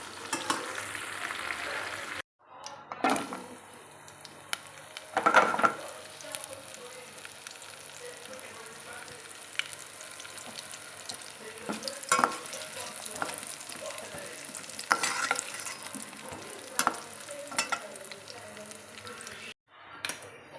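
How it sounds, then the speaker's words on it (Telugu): Mustard seeds frying in oil for a drumstick pickle, a continuous close sizzle dotted with sharp crackles and pops, with occasional stirring sounds. "ఇవి ఆవాలని కొంచెం ఎక్కువ వేయించుతున్నాను"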